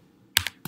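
Computer keyboard typing: two or three quick, crisp key clicks in a short burst, close and clear in an otherwise quiet room.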